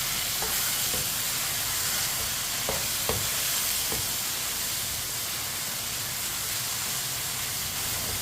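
Red chili powder, turmeric, whole coriander and whole cumin sizzle in a hot pan for an aloo tori curry, a constant hissing fry broken by a few sharp clicks of a spoon stirring through the spices.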